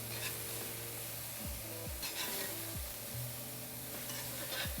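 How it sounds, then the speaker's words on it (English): Pieces of pork souvlaki fry in their own fat in a pan, giving a steady soft sizzle while a utensil repeatedly scrapes and stirs the meat in a loose rhythm, heard close with no talking. "It just kept frying in its own fat."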